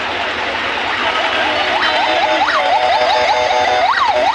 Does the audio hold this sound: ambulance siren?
yes